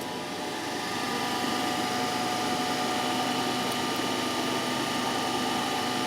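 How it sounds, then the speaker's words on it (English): An electric motor runs near 1500 rpm, driving an alternator in a lab load test, giving a steady whining hum with constant tonal lines and no change in loudness. "we have to cross check whether the motor is running at 1500 rpm"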